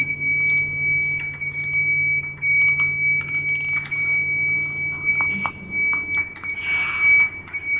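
A student-built plane radar alert alarm device sounds a steady, shrill electronic tone that carries on without a break, with fainter beeps and clicks flickering around it and no voices.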